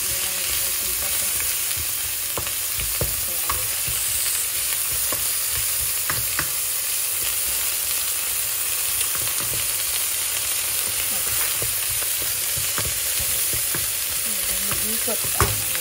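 Chopped onion frying in hot oil for pork adobo with pineapple, a steady, close crackling sizzle with scattered sharp pops and occasional stirring clicks, running continuously with no talk.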